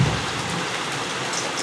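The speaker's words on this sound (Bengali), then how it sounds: "বাইরে বহুত বৃষ্টিও হচ্ছে আর আকাশও চমকাচ্ছে প্রচুর" Heavy rain pours steadily outside, a dense continuous hiss of drops at moderate loudness with no talk.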